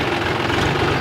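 A tractor engine runs steadily with a low, rumbling drone and faint mechanical knocking, close and continuous with no talk.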